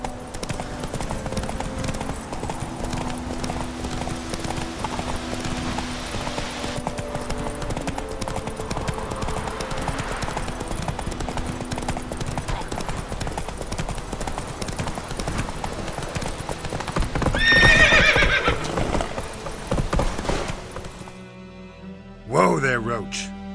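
Horse hooves in Witcher 3, a steady close clip-clop gallop that runs on and on, then a whinny and a brief voice near the end.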